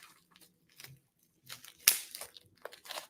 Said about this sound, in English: the sound of cellophane or whatever this plastic is.